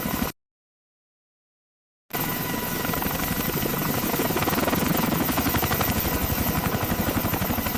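Military helicopter lifting off from an aircraft carrier deck at sea, its rotor roar rising after a brief silence and holding loud and steady, with no talk.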